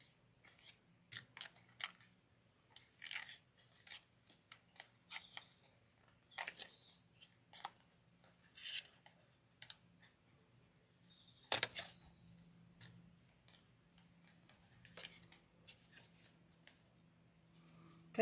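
Scissors snip off small bits in repeated short crisp cuts at an uneven pace, close and fairly quiet, with brief pauses between bursts and no talking.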